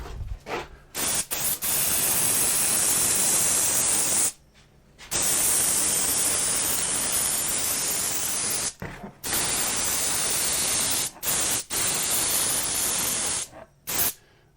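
A spray gun applies a coat of finish to a carved redwood sign in loud, long bursts of dense hiss, broken by several short pauses and one quick final burst, close up.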